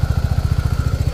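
Italjet Dragster 200cc scooter, 2023, engine running with a fast, even low putter, loud and close, shortly before being switched off.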